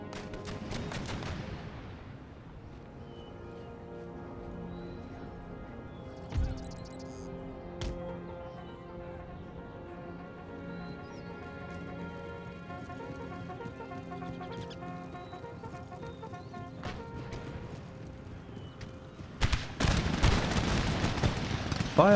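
Musket volleys and artillery fire from a Prussian army battle line in the strategy game Empire: Total War. Dense bursts open and close the stretch, the final cluster loudest, with orchestral music playing throughout.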